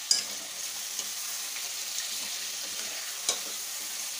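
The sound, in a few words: stirring mutton pieces in curry pan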